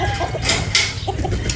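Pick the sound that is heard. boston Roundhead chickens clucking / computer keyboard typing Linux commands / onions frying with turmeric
boston Roundhead chickens clucking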